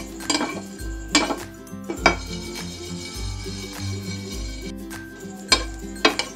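Whole cinnamon, cardamom, coriander and cumin dry-roasting in a pan for a village-style desi chicken dish: repeated clanks and scrapes of a metal spoon against the pan over a faint sizzle, with a low hum underneath and no talking.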